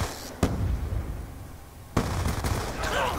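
A frag grenade goes off in Black Ops 2 gameplay, with sharp blasts at intervals over a constant noisy background of game gunfire, loud and close, with no talking.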